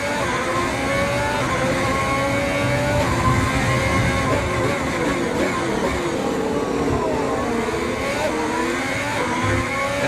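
Formula 1 race car engine in the F1 2020 video game at the Vietnam Grand Prix street circuit in Hanoi, a loud continuous high-pitched whine that sweeps up and down as the car brakes and accelerates through a slow sequence of turns.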